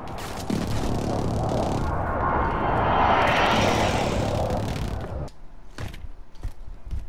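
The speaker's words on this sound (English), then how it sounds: "Enemy precision airstrike." An enemy precision airstrike in Warzone Modern Warfare: a loud, roaring jet rush builds and sweeps overhead for several seconds, then cuts off abruptly, leaving a few sharp knocks and clatter.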